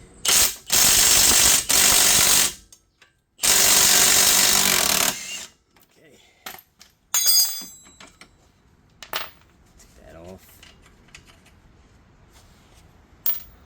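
A ratchet wrench loosens coilover bolts on a 2000–2003 Nissan Maxima, giving loud bursts of rapid clicking in several runs, followed by scattered tool clanks and quieter handling noises.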